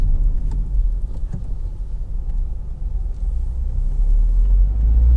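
Steady low road rumble from a Vauxhall Zafira 1.6 16V Excite five-door driving on the road, a continuous engine and tyre drone at even level throughout.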